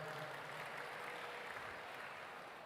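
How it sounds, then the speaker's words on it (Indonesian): An audience at a university event in Surabaya applauds the city's mayor, a faint, even, continuous wash of clapping that tapers slightly at the end. "tepuk tangan buat Bapak Wali Kota"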